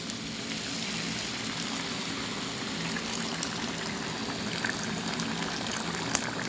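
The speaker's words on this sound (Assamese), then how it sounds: "এয়া মই এতিয়া গৰম পানী দি দিছোঁ" Hot water pours into a pot of fish curry, a steady rushing, bubbling gush of liquid at moderate level, continuous and unbroken, with light clinks scattered through.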